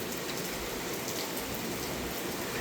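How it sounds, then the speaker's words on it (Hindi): Heavy rain pours steadily outdoors, a dense, continuous hiss of drops drumming on surfaces, close and loud throughout with no break and no voices. "अब इतनी बारिश हो रही"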